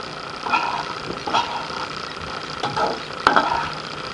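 Cabbage and peas poriyal is stirred in a pan, giving several soft scraping, shuffling strokes at uneven intervals over a low sizzle, fairly close and moderate in level.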